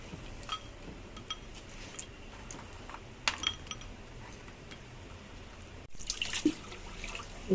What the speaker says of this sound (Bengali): আর এগুলোকে আগে আমি একটু ধুয়ে নিচ্ছি ঠান্ডাটা সারানোর জন্য